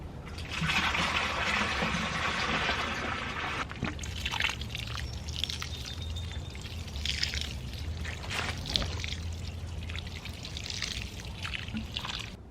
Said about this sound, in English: I have some buckets of water here that I can use to water my lettuces